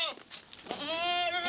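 A goat bleats in a long, quavering call close by, following a few softer broken sounds, in a rural goat-trading scene at Holi.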